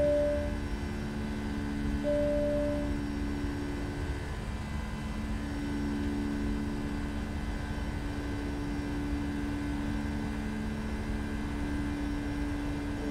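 Boeing 757 airliner taking off, a steady, dense engine roar with sustained tonal whine heard from inside the cabin, unchanging in loudness throughout, no talk.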